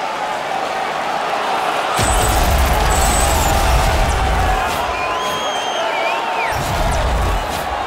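An arena crowd roars and cheers during an NHL 21 hockey game, a thick wash of noise that swells loudly for several seconds, eases, then rises again, with whistles and shouts threaded through it.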